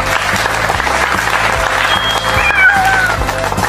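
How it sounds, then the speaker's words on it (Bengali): A group in a cartoon claps hands together loudly, a dense burst of clapping with rhythmic thumps beneath and a high whistling tone sliding through near the end. "সবাই একসাথে জোরে হাততালি দে"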